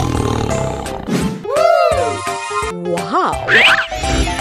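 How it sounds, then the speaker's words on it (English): A cartoon tiger roars in a children's animal video, a short cluster of playful, swooping growls and cartoonish sliding tones amid lively effects, loud and close with a voice nearby. "Tiger."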